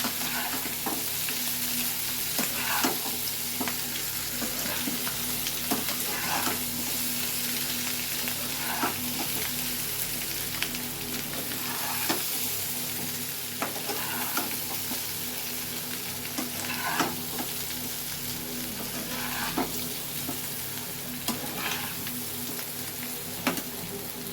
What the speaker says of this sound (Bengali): এবার আঁচটা কমিয়ে দিয়ে এটাকে ভালো করে মিশিয়ে নিতে হবে।